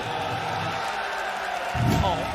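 A dense, steady roar from an esports arena crowd at a Valorant VCT Champions match in Istanbul, swelling slightly near the end, heard under an animated caster's commentary.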